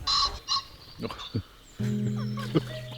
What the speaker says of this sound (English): bloody birds just won't shut up